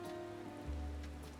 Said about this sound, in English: Oh no, there is a rain.